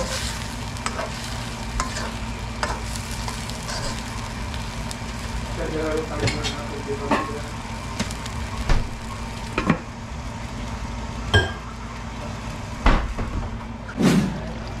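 Pinakbet vegetables of squash, eggplant and string beans are stirred in a pan with pork, giving a steady sizzle and repeated utensil scrapes and clinks that come in sharper bursts toward the end, with a voice talking faintly underneath.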